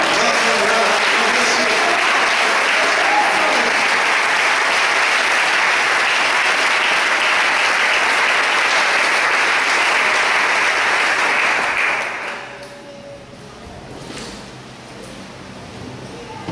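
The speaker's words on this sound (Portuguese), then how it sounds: "vamos dar um aplauso ao Senhor" A church congregation applauds the Lord in a long, loud, steady burst of clapping for about twelve seconds at a religious gathering in Brazil, then it cuts off, leaving quieter room sound.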